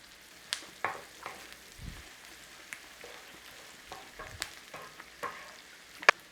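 Onion fries quietly in bacon grease in a pan, with a faint steady sizzle broken by soft scrapes and stirring knocks from a utensil.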